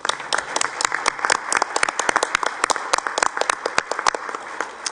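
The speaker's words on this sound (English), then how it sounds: "How about a round of applause for our students?" An audience at a school committee meeting applauds steadily, with dense overlapping claps and sharp individual hand slaps standing out throughout.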